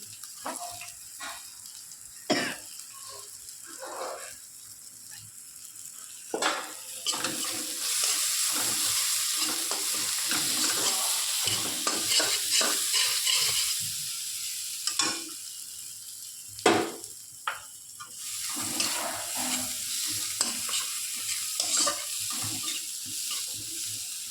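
Spice masala with coriander powder frying in a pan, a continuous sizzle under repeated scraping stirs and occasional clinks of the spoon against the pan, near and without talk.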